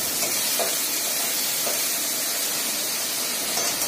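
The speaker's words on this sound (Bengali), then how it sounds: "কষানো মোটামুটি হয়ে গেলে তাতে আগের থেকে ভেজে রাখা আলু আর কিছু টমেটো কুচি দিয়ে কষতে দিতে হবে।" Pre-fried potatoes and chopped tomato frying in spice masala for a Bengali fish-roe omelette curry, a continuous even hiss and sizzle with faint stirring.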